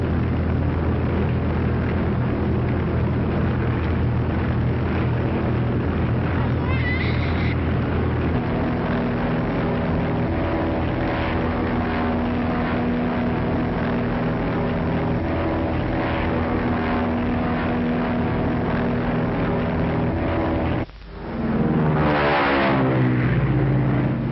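A high-wing monoplane's propeller engine drones loudly and continuously, holding a steady pitch throughout with a brief dip in level near the end.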